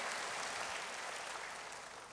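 A church congregation claps during a sermon, a dense even patter of many hands that sounds fairly faint and distant and holds steady for about two seconds.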